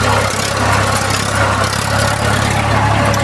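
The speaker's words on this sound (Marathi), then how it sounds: "गहराई नंबर 1 घेऊन चाललं माझं ट्रॅक्टर, बघू शकता" A tractor engine runs loud and close while ploughing at shallow depth, with a continuous steady low rumble and drone that holds an even pitch throughout.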